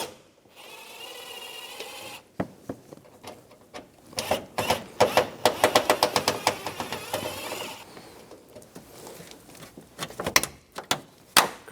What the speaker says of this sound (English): Using a Phillips head screwdriver, take these two screws out.